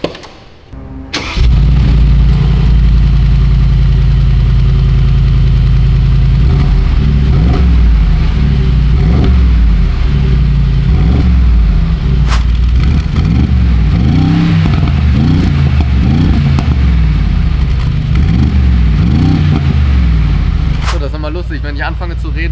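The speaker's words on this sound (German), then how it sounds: "der Sound von dem 4 Liter V8 Biturbo, der ist natürlich trotzdem nicht schlecht" A Mercedes G-Class with a 4-litre V8 biturbo fires up with a sharp bark, then settles into a deep, loud idle broken by repeated throttle blips that rise and fall, heard up close.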